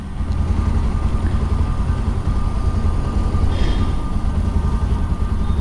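A Bajaj Pulsar 125 BS6 motorcycle from 2022 idles steadily after a start, a loud, even engine rumble that holds without change for several seconds and has no speech over it.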